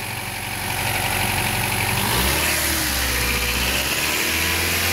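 A Honda Civic engine runs at a steady idle, then revs up with a deeper, louder drone around the middle before settling back, heard close with no talking.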